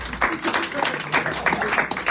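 A small group at a Bordeaux wine tasting claps briefly in scattered, uneven bursts, with voices talking through the applause.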